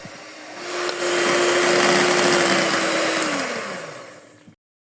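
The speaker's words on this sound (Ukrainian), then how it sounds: "Білки збиваємо в тугу піну" An electric mixer whips egg whites into a stiff foam for a glaze for Ukrainian Easter paska bread. It drones steadily and loudly and holds one motor pitch, then the pitch drops as it winds down and it cuts off.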